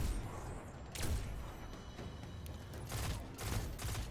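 Gunfire aimed at a Colossus in the Destiny video game, with several spaced shots cracking over a low, rumbling battle backdrop at moderate, somewhat distant loudness.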